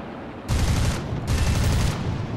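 Rapid bursts of aircraft gunfire in War Thunder, two loud sustained volleys separated by a short pause, close and dense, with no talk.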